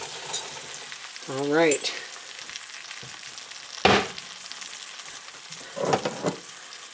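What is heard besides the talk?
food browning in butter in a pan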